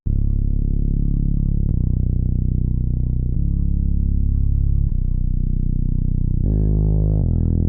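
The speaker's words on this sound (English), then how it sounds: "went into Analog Labs, got a synth bass, followed the root notes" A synth bass from Analog Lab follows the root notes of a beat, playing heavy, sustained, buzzy low notes that change every second or two, with one higher shift near the end. It is loud and dense, with no vocals.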